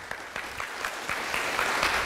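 An audience at a public talk on Santa Clara County planning breaks into steady applause, a dense patter of many hands clapping continuously at moderate loudness in a hall.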